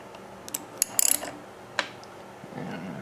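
Flywheel being taken off a homemade Briggs hit-and-miss engine, with sparse metallic clicks and clinks and one quick burst of rapid ratcheting ticks over a quiet background.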